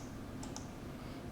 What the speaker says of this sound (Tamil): இங்கே ஃபியூஸ்ன்னு டைப் பண்ணிக்கிறேன்